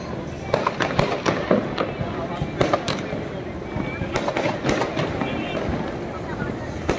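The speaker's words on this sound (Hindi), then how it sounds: "ये देखिए पटाखा वहाँ छूट रहा है क्या।" Fireworks go off at night near Select CityWalk Mall in Delhi, sharp cracks and pops bursting irregularly at moderate distance over a steady crowd hum.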